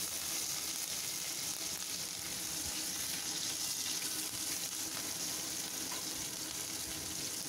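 Ginger and garlic frying in hot oil, with a steady broadband sizzle and occasional stirring scrapes running continuously at a constant level, no voices present.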